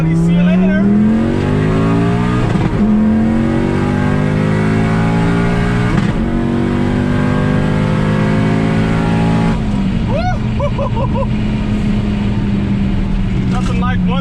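A turbocharged car with a Borg Warner S257sxe turbo accelerates hard on a back road, its loud engine climbing through rising gear pulls with brief drops at each shift, close and continuous with no talk.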